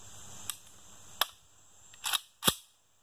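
An FNC rifle being loaded and a 5.56 round chambered, a few sharp close metallic clacks spread over a few seconds, the last two heavier as the action closes, with no talking.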